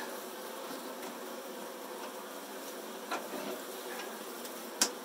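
Saskatraz honey bees buzzing inside a hive during a package install, a soft steady hum with a few faint clicks and one sharp tap near the end, quiet and close without talk.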